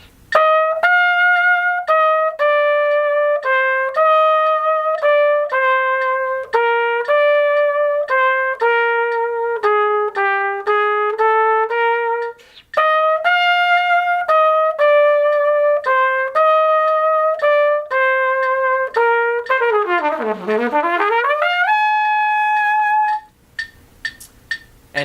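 A Level 2 cornet solo played slowly and deliberately, clear sustained brass notes in a stepwise line, one brief pause midway and a sliding glissando near the end, close and solo with no talking.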